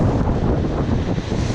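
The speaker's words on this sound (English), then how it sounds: "Oh, a bit windy." Gusty wind rumbles across the microphone, a dense low roar that barely lets up, close and loud.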